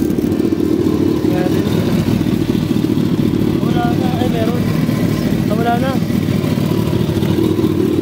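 A Kawasaki ZX14R 1441cc sport motorcycle without a catalytic converter runs with a steady, loud engine drone close by, while people talk over it.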